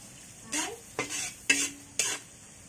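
Onions and tomatoes sauté in a pan, heard as four quick, evenly spaced scraping strokes of a spoon over a low, close sizzle, with no voices.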